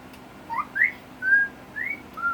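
A pet cockatiel whistles indoors: several short, clear rising and sliding notes with small gaps between them, fairly close and moderately loud, with no talking in between.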